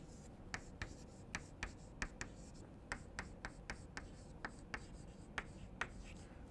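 Pen or marker writing equations by hand on a board, a string of short sharp taps and strokes at an irregular, quick rhythm over a steady low room hum, no talk.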